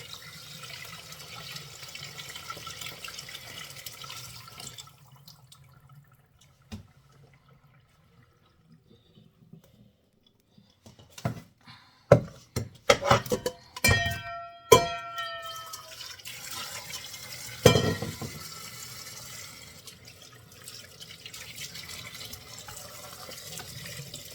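Running water at a kitchen sink while fish is washed with plenty of soap: a steady rush of flowing water at the start and end, with a quieter stretch in between broken by sharp clicks, knocks and splashy handling sounds.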